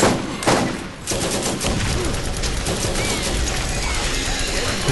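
Shotgun and other gunfire in the video game Borderlands, with sharp blasts near the start and a dense, continuous clatter of shots and effects that runs loud throughout.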